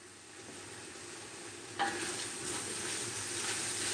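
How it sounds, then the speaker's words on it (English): A pot of Cajun sausage and bean soup gets stirred, with a soft simmering sizzle and then a single scraping stir about halfway through, followed by a brighter, slightly louder bubbling hiss, all fairly quiet. "Give it a stir."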